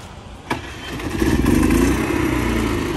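A generator for a mobile car-detailing job kicks on with a sharp jolt, then settles into a loud, steady engine rumble close by.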